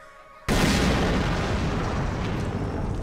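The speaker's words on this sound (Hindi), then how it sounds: "ये पटाखा किसने फोड़ा?" A firecracker bursts with a sudden loud bang, and a dense roaring, crackling rumble carries on without pause after it, with no voices.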